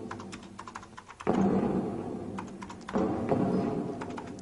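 Someone types on an Amiga computer keyboard in a word processor. Close, clattering keystrokes come in quick runs, with a couple of heavier thunks as keys are struck harder.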